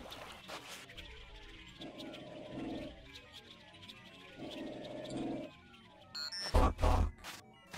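A robot dog in Sir, You Are Being Hunted lets out two long, low growls over ambient game sound, followed by a louder burst of clatter near the end.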